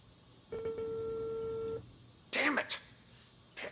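Phone tones from the video game Unheard: a steady electronic ringback tone holds for over a second, followed by a brief burst of clicky handset noise, with a quiet background hum throughout.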